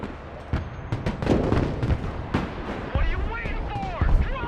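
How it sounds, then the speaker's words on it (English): Artillery volleys boom repeatedly in the Broken Arrow war game, a dense run of sharp blasts and rumbling impacts with a whistling descending shell streak near the end. "Their artillery fires volley after volley without repositioning."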